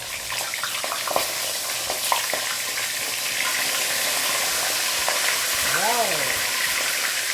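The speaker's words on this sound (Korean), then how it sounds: "이렇게 소리가 많이 나지만 기름이 튀어나오지는 않습니다" Sweet potatoes fry in low-temperature oil, sizzling and crackling continuously with scattered pops, a steady frying hiss, while a voice speaks briefly near the end.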